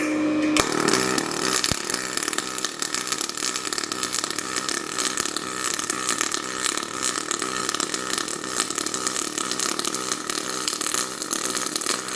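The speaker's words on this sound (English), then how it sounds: "I am going to preheat the aluminum before I make the weld" Pulse welding of preheated thin 16 gauge aluminum with a DP200 welder, a steady bright crackling buzz running continuously and fairly loud for the whole stretch, with faint tool and pump-like noise beneath.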